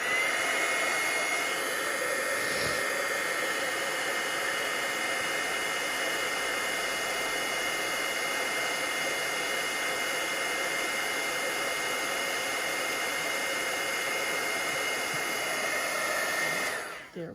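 A heat tool blows continuously for embossing on a stamped card, a steady loud whirring rush of air that holds for over fifteen seconds and then cuts off.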